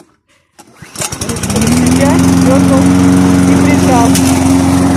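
Katana lawn mower pulled into life outdoors on uneven grass: a sputtering, revving start builds within a second into a loud, steady engine drone close by, with a person speaking briefly at the start.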